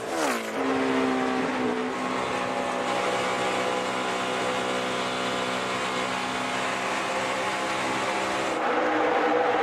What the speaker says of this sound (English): You can hear him get back in the gas and make this huge run off the corner